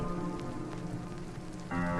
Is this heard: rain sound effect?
yes